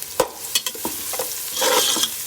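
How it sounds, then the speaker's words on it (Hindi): Crushed garlic and ginger hit a pan of frying onions, giving short sizzling bursts and scraping stir strokes that build into a steadier, louder sizzle toward the end, with no talk. "अब हम इसके अंदर लहसुन अदरक डालेंगे।"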